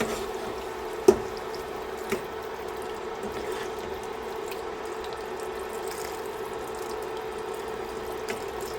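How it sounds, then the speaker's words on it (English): A steady, soft stream of broth pours continuously into a pot, with a couple of faint clinks early on. "As I pour in my broth."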